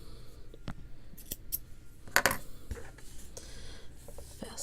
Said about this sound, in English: I'm just going to cut and fasten off.